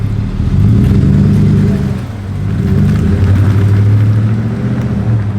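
A loaded vehicle drives along the road before dawn, its engine a steady low rumble with road noise that dips briefly midway, then swells again as it keeps moving.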